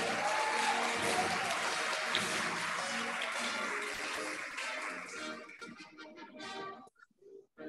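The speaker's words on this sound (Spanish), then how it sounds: "un aplauso para Boris Mauricio Cabezas Marín" Sustained applause from a graduation ceremony audience, a dense steady wash of clapping that thins and breaks apart near the end.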